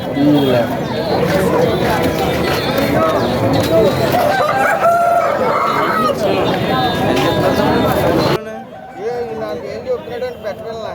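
A rooster crows loudly nearby amid clucking and chattering fowl at an outdoor country-chicken market, with people talking prices over the birds; the crowing stops abruptly near the end.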